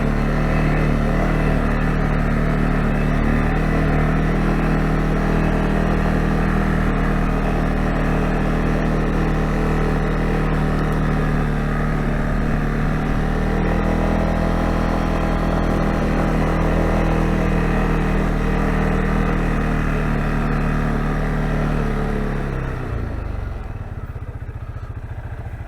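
A 2022 CFMOTO CFORCE 625 L ATV engine runs steadily while driving, a loud, close, continuous motor drone with mechanical clatter that holds for over twenty seconds before suddenly cutting off near the end.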